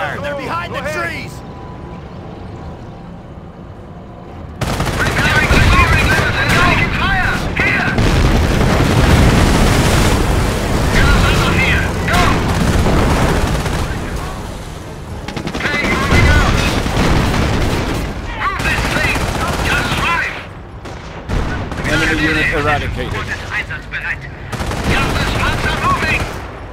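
Heavy, continuous gunfire and explosions fill a World War II video game battle during Operation Market Garden, with dense bursts of machine-gun fire and booms. Shouted soldier voices are heard over the din, and there is a quieter stretch at the start.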